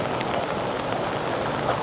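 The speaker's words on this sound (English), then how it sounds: "but it certainly is raining" Steady rain falls on a downtown Toronto street, a continuous even hiss of drops on pavement with faint pattering, moderately loud and close.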